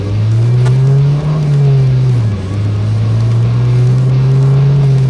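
A 25-year-old Mercedes W202 sedan accelerates hard on a road, its engine droning loud and close, with the pitch rising, dipping briefly and climbing again.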